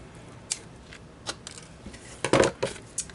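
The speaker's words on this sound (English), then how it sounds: "cut your thread off" Small scissors snip thread while a korker boutique hair bow is finished, giving several sharp, close metallic clicks spaced irregularly, with a denser cluster of snips near the end and no talking.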